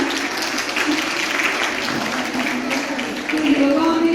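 Steady, fairly loud clapping from an audience at a school sports meet prize distribution, honouring students from a national-level yoga competition, sustained throughout and swelling slightly near the end.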